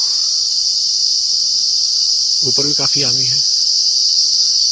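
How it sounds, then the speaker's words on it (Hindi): Crickets chirp in mango trees on a farm, a loud, steady, high-pitched continuous drone throughout, with someone briefly speaking over it near the middle. "इन पेड़ों पर झींगुर है काफी, तो झींगुर बोल रहे हैं"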